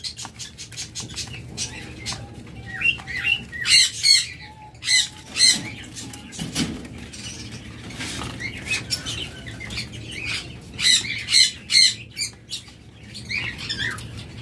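Red diamond doves in a colony aviary setup, giving soft repeated calls and chirps with bursts of wing flapping, fairly close, over a steady low background hum, with no talking.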